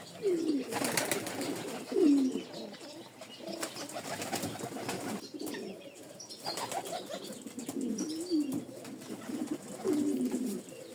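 A pigeon coos in repeated low, throaty phrases, close by, with wing flutters and rustling in between and other soft bird sounds around it.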